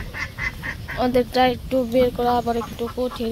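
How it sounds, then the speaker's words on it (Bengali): Penned ducks honk and quack in a rapid run of nasal calls, eager to be let out, while a person speaks over them in a village yard. "হাঁসগুলা ডাকাডাকি পারতাছে বেরোয়ার জন্য।"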